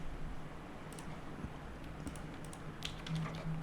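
Quiet, rapid typing on a computer keyboard, light clicks pattering unevenly in close bursts against a faint background hum.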